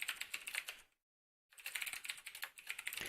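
Rapid clicking on a computer keyboard, close and fairly quiet, in two bursts of typing separated by a brief silent pause.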